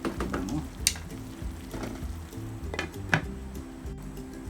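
Vegetables for pancit canton guisado cook under a lid in a pan, giving a steady soft sizzle and bubbling with a few faint metallic clinks.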